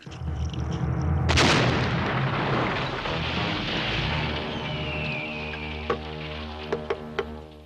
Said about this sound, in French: la nitroglycérine explose au moindre choc